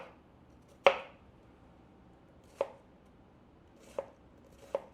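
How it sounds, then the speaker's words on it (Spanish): Four sharp knife chops land on a cutting board as vegetables are cut: a single stroke, a long pause, then three more at uneven intervals, crisp and fairly quiet against a silent room. "Claro que primero tendrías que picar las verduras"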